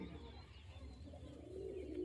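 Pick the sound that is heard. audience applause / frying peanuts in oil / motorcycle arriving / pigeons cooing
pigeons cooing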